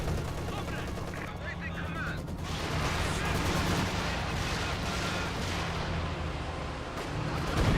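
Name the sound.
gunfire from the video game Company of Heroes 2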